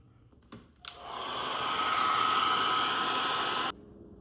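A hair dryer blows on a stiffened jute ornament, starting after a couple of small handling knocks, roaring steadily and fairly close for about three seconds, then cutting off abruptly.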